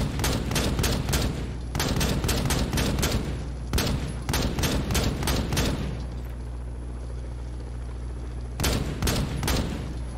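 Rapid bursts of automatic gunfire in the video game Rainbow Six Siege, on the Presidential Plane map, rattle in clusters, pause for a few seconds, then resume, loud and close over a steady electronic hum.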